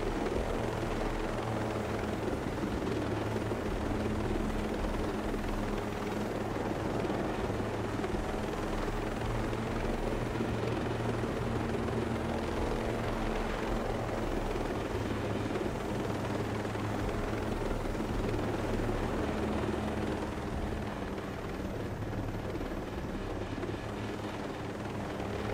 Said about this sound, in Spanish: Viene el helicóptero, con cuidado. Vienen dos helicópteros.